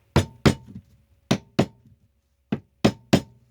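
Sharp knocks against a stuck lid on a glass jar, heard in clustered pairs and triplets of loud, close impacts with a faint glassy ring and no talk.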